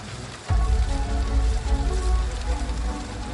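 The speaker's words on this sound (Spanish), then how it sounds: "Por la mañana, la lluvia acaba por extinguir el fuego." Heavy rain falls over a burned-out Chicago at dawn, a dense, constant patter with a deep rumbling bed that starts suddenly and holds steady throughout.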